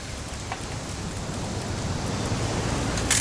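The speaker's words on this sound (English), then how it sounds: "It's gonna rain the whole weekend, isn't it?" Rain falls steadily in the video game What Remains of Edith Finch, a dense, even hiss of drops on surfaces with a few brief louder spatters, with no speech.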